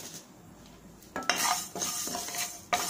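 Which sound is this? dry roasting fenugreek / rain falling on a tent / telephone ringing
dry roasting fenugreek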